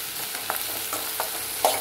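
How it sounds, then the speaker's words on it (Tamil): Steady sizzle of cinnamon, cloves and cardamom frying in hot oil, with a few sharp pops and crackles breaking through the hiss. "பட்டை கிராம்பு ஏலக்காய் எல்லாம் போட்டு போட்டு தாளிக்கிறது"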